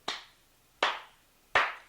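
Three slow, separate hand claps from a single person, evenly spaced and sharp with short reverberant tails in a quiet room.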